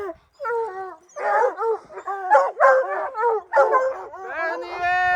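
Hunting dogs on a spring bear hunt in Utah during a snowy blizzard bay and howl in long, wavering bursts, loud and close, the yelping cries overlapping and nearly continuous.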